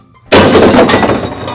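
A glass bottle smashes loudly after a brief silence, the bright shattering crash ringing out and fading over about a second.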